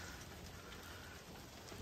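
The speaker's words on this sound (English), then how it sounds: "here comes the rain" Steady rain falls outdoors, a soft continuous hiss of drops that stays even and fairly quiet throughout, with no voices.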